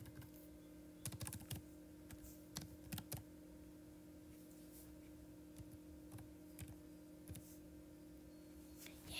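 Keys clatter on a computer keyboard as a username is typed, with scattered quick taps and a few tight clusters of keystrokes over a faint steady hum.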